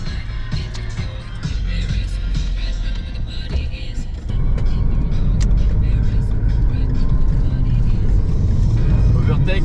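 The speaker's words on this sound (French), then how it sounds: "Petit film de la circulation en Géorgie." Road traffic in Georgia, with a steady loud rumble of vehicles and engines passing close by and continuous wind-like noise, while people talk over it.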